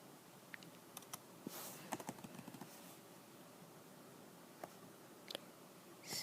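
Quiet clicks of typing on a computer keyboard come in short irregular bursts with pauses between them, faint and close, with no talking over them.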